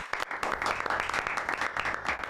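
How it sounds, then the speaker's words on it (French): Studio audience applauding on a French talk show, a dense wash of clapping heard fairly close and steady for a couple of seconds, with a few voices faintly mixed in. "Applaudissez-les."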